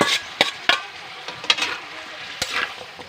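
Pork ribs sautéing in a pan for pork kaldereta, with repeated spoon scrapes and clacks over a continuous sizzle, loud and close, at an uneven stirring rhythm.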